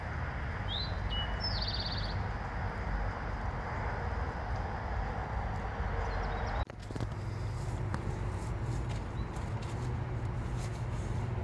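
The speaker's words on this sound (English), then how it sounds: "Are the birds chirping?" Birds chirp and tweet in short, high calls in a backyard in the morning, over a steady background hum, with a brief sharp knock partway through.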